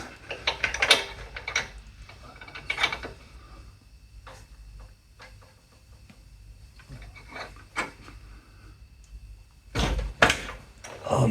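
A socket wrench loosens a moped spark plug in a quiet workshop, giving sparse metallic clicks and scrapes, with a few sharper ratcheting bursts near the start and again toward the end.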